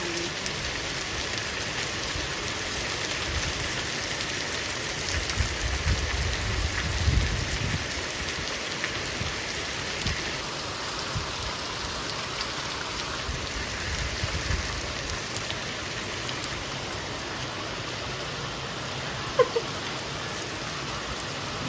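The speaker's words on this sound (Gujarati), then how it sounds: "ધબધબાટી વરસાદ પડે ગાઈશ બહુ વધી ગયો વરસાદનું પ્રમાણ વધી ગયું" Heavy village rain pours down in an unbroken, dense roar of drops hitting the ground and flowing water, steady and close for the whole stretch with no speech.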